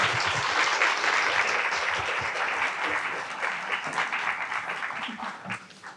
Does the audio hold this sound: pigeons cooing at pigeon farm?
no